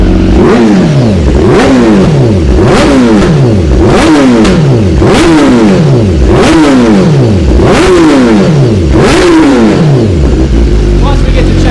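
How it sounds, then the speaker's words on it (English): A car engine with a Roush exhaust is revved repeatedly, roughly eight loud close blips that each surge upward in pitch and fall back down in a steady rhythmic cycle. "Now you can go ahead and rev it a couple times too."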